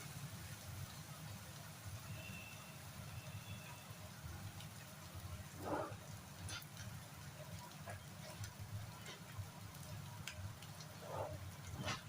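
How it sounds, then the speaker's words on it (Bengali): Bombay duck (bombil) fish frying in oil in a pan, a steady soft sizzle throughout with a couple of brief louder crackles, no one talking. "মাছটা ভাজা হচ্ছে"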